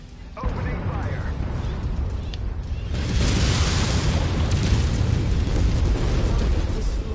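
MechWarrior 5: Mercenaries battle with weapons fire and explosions, a heavy continuous rumble of blasts that jumps louder after a few seconds and stays dense, with voices underneath.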